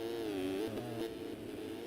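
Dirt bike engines whine and rev in the MX Simulator motocross game during a Supercross night race, a steady buzzing drone with pitch shifts, heard alone.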